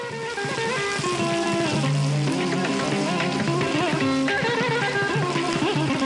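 Chopped onions sauté in a hot pan with a continuous crackling sizzle running beneath background music, steady and fairly close throughout.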